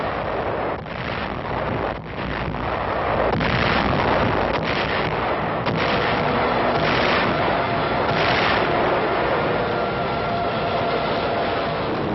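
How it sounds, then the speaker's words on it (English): Naval bombardment and shelling of the beaches before the 1944 Peleliu invasion: a loud, continuous, rumbling roar with repeated heavy booms and blasts throughout, in an old, band-limited recording. "5 successive days of bombing and shelling climax the pre-invasion foray"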